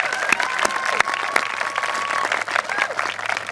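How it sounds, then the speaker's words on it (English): A school commencement audience applauds, a dense, steady wash of many hands clapping at close to moderate distance for the whole stretch, with no voice on top. "we got to give a round of applause for the best class ever"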